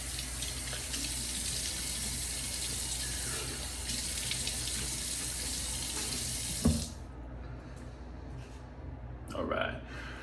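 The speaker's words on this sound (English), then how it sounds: "I'm gonna go ahead and wet my face and we'll get right into the shave" Tap water runs steadily into a bathroom sink for about seven seconds while the face is wetted before a shave, then stops, followed by brief splashes and handling noises.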